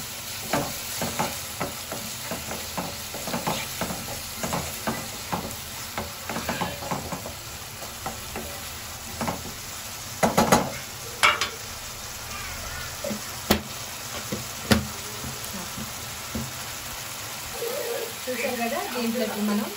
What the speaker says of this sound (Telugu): అలాగే కొంచెం అల్లం వెల్లుల్లి పేస్ట్, ఇది కూడా పచ్చి వాసన పోయేంత వరకు వేయించేసుకోవాలి.